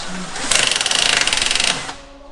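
A power drill with a too-short bit whirs loudly and buzzily for about a second while fitting a fan on an E36 2.5 TDS, then winds down, with quieter room sound on either side.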